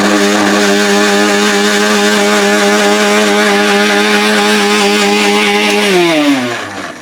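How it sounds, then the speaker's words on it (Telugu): A mixer grinder whirs loudly and steadily while blending onion, tomato and water in its jar, holding one strong motor drone for several seconds before winding down as it is switched off. "మిక్సీ పట్టండి."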